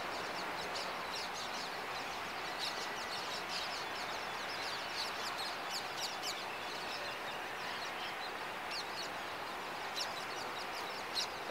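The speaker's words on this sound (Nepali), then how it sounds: "यो चराचुरुङ्गीहरूको आवाज चाहिँ एकदमै यो सुगा चाहिँ चर्न गइरहेको अवस्था छ, यो चाहिँ सुन्दै गर्नु होला" Birds chirping and calling outdoors near a Rajasthan fort, parrots among them, faint scattered tweets and short calls over a constant airy background hiss, no voices.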